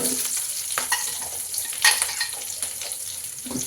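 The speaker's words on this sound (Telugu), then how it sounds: "బాగా వేయించుకుందాం." Curry leaves, green chillies and onions sizzle and fry in hot oil while a utensil stirs and scrapes the pan, a steady crackle close by with occasional stronger clatters.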